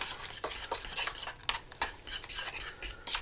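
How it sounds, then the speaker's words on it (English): A spoon or whisk scrapes and stirs through minced meat in a pan as pepper is worked in, a quick run of clattering, rhythmic strokes over a soft sizzle, no voices. "And then I just whisk that in nicely."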